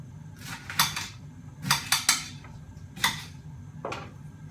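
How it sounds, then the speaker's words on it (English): Cabbage pressed into a pressure cooker, producing a few close, crisp rustles and knocks in short bursts separated by quiet gaps. "Pop a little bit more cabbage in there just to fill up the top of the pressure cooker."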